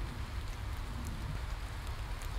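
Rain falling in the video game Wolf Simulator, a dense, even hiss of drops that stays steady and fairly soft throughout, with no voices.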